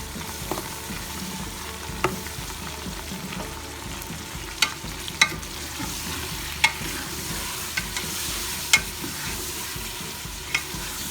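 Garlic and ginger sizzle steadily in oil in a pan, with occasional sharp clicks and scrapes of a utensil stirring; no voices.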